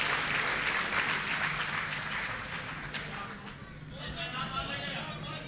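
Audience applause at a Hindi-Urdu poetry gathering welcoming a poet, a steady, dense wash of clapping that holds throughout and thins slightly toward the end, with a voice faintly underneath.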